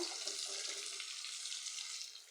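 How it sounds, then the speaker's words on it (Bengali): Onions, tomato and green chilies frying in rice bran oil, a steady close hiss of sizzling that holds evenly for a couple of seconds before easing slightly, with no talk over it. "দুইটা পেঁয়াজ একটা টমেটো দুইটা তিন চারটা কাঁচামরিচ দিয়ে দিলাম রাইস তেলের মধ্যে"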